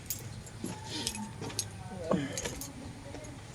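A bunch of car keys jangles and clinks faintly nearby as it is handed over, a few brief metallic rattles against a quiet background.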